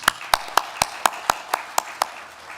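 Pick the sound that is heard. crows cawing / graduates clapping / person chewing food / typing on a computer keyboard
graduates clapping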